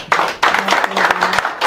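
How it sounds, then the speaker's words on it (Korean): Audience applause welcoming a professor to the stage at a Korean overseas-community forum lecture, a burst of clapping that starts, briefly dips, then swells again over about two seconds, fairly close and loud. "큰 박수로 환영해."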